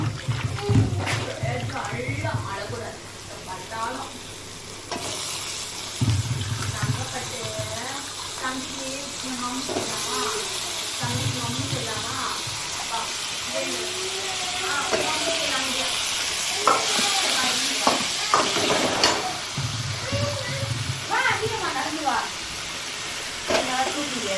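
Tomatoes and chopped vegetables sautéing in a home pan, with steady sizzling and repeated scraping stirs throughout, while someone talks over the cooking.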